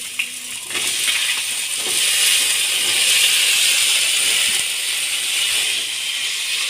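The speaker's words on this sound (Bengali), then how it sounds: "এবার আলুগুলোকে ভালো করে ভেজে নিতে হবে।" Potatoes frying in hot mustard oil in a wok, a loud, continuous hissing sizzle that swells slightly after the first second and holds steady, with no voices.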